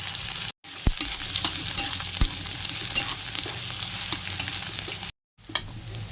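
Onion and chili crackle in hot oil with panch phoron, a dense steady sizzle broken by light clicks of a stirring spoon and two brief gaps. No voices.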